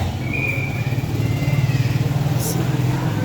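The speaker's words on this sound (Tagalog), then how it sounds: "Ayan, daanan ng mga motor." Motorcycles pass along a lane through a busy public market in Catbalogan, a steady low engine drone running throughout beneath crowd chatter and market noise.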